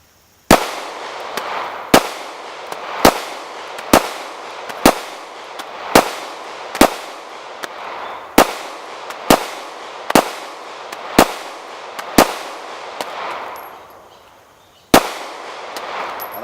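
A Taurus PT111G2 pistol fires Federal HST rounds at a 10-yard range: a steady string of about a dozen sharp, loud shots roughly one second apart, then a brief pause before one final shot.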